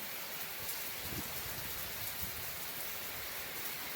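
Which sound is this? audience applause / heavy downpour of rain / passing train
heavy downpour of rain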